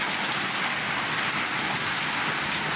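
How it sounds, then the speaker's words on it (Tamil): Heavy afternoon rain falls steadily and densely around a small garden, a loud, continuous hiss of drops on surfaces with no voices. "சரியான மழை போயிட்டு பாருங்கள்."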